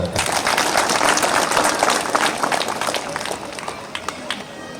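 An audience claps at a talk by a swami on organic farming. The clapping is a loud, steady burst of many hands that gradually thins and fades toward the end.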